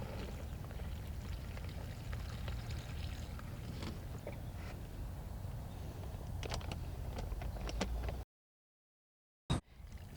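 Water pours steadily from a bucket into the chambers of a wall-of-water plant protector used to warm garden soil, a close, continuous splashing rush that runs for about eight seconds before cutting off.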